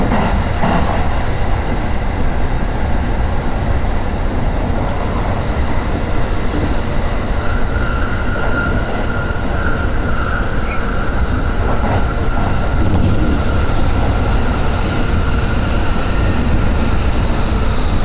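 Steady loud rumble of a Joban Line commuter train running from Kita-Senju to Minami-Senju, continuous rolling noise and hum with faint rhythmic rattling throughout, no voices.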